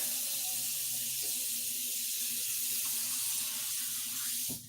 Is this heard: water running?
yes